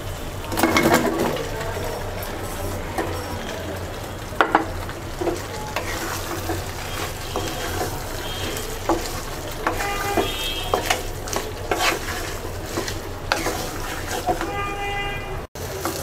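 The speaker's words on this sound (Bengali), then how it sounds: "আমড়াটাকে, 2 মিনিট কষিয়ে নেব।" Hog plums sautéed with spice masala in a pan for a sweet-sour-spicy mixed fruit pickle, a constant loud sizzle with frequent clattering spoon strokes and scrapes, close up.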